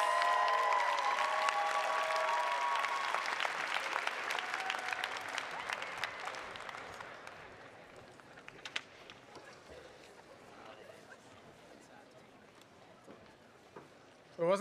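Loud applause from a sizable commencement ceremony audience, dense clapping that gradually thins and fades out, leaving scattered claps and a quiet room.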